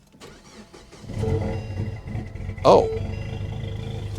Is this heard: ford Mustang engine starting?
yes